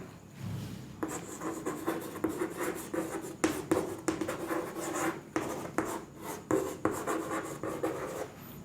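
Marker or chalk scratching across a board during a physics lesson, a run of short irregular strokes and taps, fairly close, with no talking over it.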